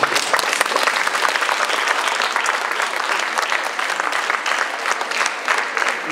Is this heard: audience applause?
yes